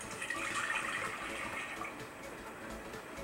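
Water pouring steadily into a pressure cooker for gravy, a broad rushing splash that holds fairly even throughout and tapers slightly toward the end.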